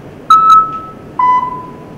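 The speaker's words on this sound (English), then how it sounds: "in which the subject is presented in two tones and has to say which one is higher." Two short pure beeping tones sound one after the other for a pitch comparison test, the first slightly higher than the second, clean and close over faint background hiss.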